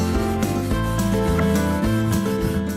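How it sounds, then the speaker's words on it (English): Wood being rubbed with fine-grit steel wool, a close, continuous scratchy rasping in quick back-and-forth strokes with no talking. "So this is a pretty fine grit steel wool."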